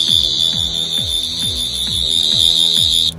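Tenth Doctor sonic screwdriver prop replica sound effect, a loud piercing high-pitched whine held steadily over a rhythmic series of repeated descending electronic chirps, alone and close.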